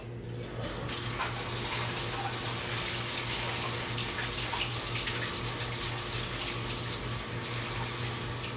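Tap water runs steadily over canned chickpeas in a strainer as they are rinsed, a continuous splashing gush with a low hum underneath, no speech.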